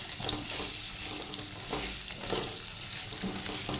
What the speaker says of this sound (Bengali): আলুগুলো সেদ্ধ করে রেখেছিলাম, আলুগুলো তুলে দিয়েছি, ভাজা হচ্ছে, একটু ভালো করে ভাজবো